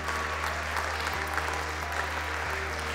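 Warm, sustained applause from a concert audience for a musician and his ensemble at a televised final, dense steady clapping filling the hall with a low hum beneath.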